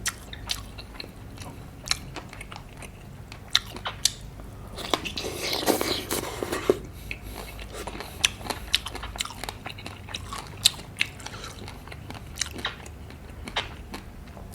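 Crunchy bone and fat from an Isaan dish are bitten and chewed close to the mic, giving repeated sharp crunches and wet chewing with a denser burst of crackling midway, no talking.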